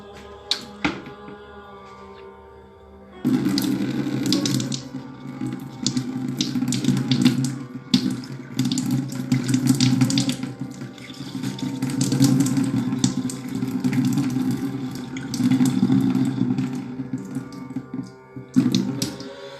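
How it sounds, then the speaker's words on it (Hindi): Water gushes steadily out through the nose during a nasal rinse, a continuous splashing pour lasting most of the stretch after a brief quiet start, loud and close with no talk over it. "मुंह से लिया और नाक से पूरा नलके की तरह पानी आता है बाहर"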